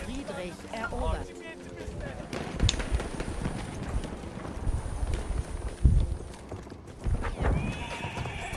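Horses gallop with steady clip-clop hoofbeats and a whinny in a Battlefield 1 desert battle, loud and close amid gunfire and game noise, with no talk over it.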